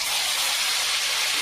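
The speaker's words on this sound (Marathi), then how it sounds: "शेंगा छान असा फ्राय होऊ द्यायच्या तेलामध्ये, मसाल्यामध्ये" Moringa drumstick pods fry in hot oil and spices, giving a steady, close, loud sizzling hiss that holds evenly throughout.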